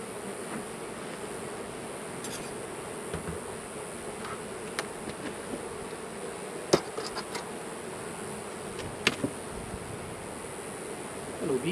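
Bees buzz steadily in a dense, continuous drone, with occasional louder individual bees passing close by.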